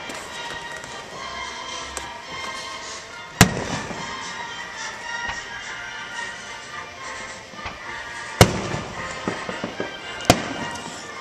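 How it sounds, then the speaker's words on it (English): July 4th fireworks show with steady distant crackling, a few sharp loud booms standing out against the continuous fizz, no talk over it. "So now you're watching the fireworks show with us."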